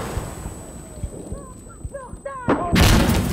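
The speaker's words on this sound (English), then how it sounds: "He got grenade launcher." Grenade launcher blasts and gunfire in the video game Insurgency Sandstorm, with muffled thumps and scattered shots followed by a loud, roaring explosion at the end, alongside faint chirping tones.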